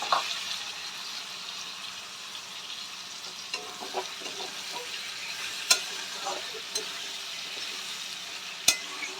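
Chopped tomatoes and green chilies sautéing in a pan for a vegetarian ghugni, a steady soft sizzle with occasional stirring scrapes and a few sharp clicks of a utensil against the pan.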